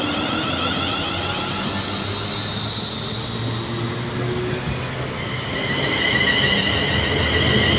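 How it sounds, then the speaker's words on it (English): A British Rail Class 350 electric multiple unit on a London Northwestern Railway service to Crewe pulls away from a station, giving a steady loud rumble and whine that rises slightly toward the end, with no talking. "350-101 is now just about ready to lead away the 1820 the London Northwestern Railway service to Crewe"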